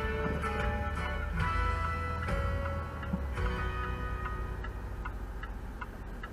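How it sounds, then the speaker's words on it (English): A car's turn signal clicks in a steady tick-tock rhythm from inside the vehicle, sitting under loud, continuous music and road noise. "Turn signal clicking"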